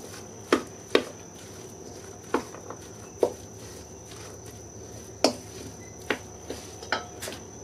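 A spoon stirring rice and sauteed ground beef together in a pot, producing a series of separate scraping and clinking knocks at irregular intervals, with a steady high background tone and no voices.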